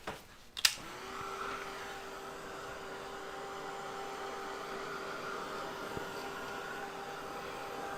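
After a short clatter, a hair dryer switches on and runs with a steady, even whoosh and a faint hum, drying a watercolor painting coated with masking fluid; the blowing continues alone, fairly quiet.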